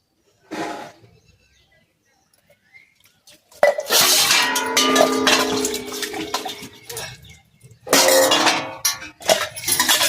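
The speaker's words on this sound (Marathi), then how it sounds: "भांडी दररोज घासा धुवा धुवा घासा धुवा" Dishes, pots and utensils are washed by hand at home: a brief clatter, a pause, then long stretches of loud, close metallic clinking and scraping mixed with splashing water, with no talking.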